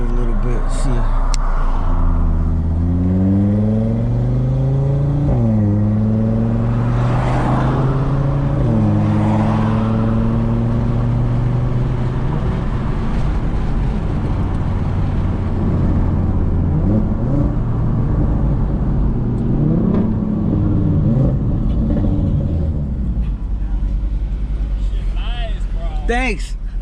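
Audi RS3 with a carbon fiber intake idles and revs up close, the engine note rising and falling in several steady pulls over a continuous low rumble, with people talking faintly nearby.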